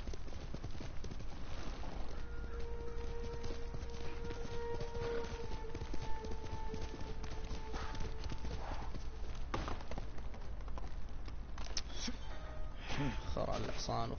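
Steady clip-clop of a horse's hooves trotting along in a video game, continuous and fairly close, with occasional tonal game sounds over it and a voice talking at times.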